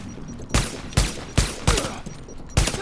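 Gunshots from The Division video game, six sharp reports spaced about half a second apart, loud and close with short decaying tails and no talking.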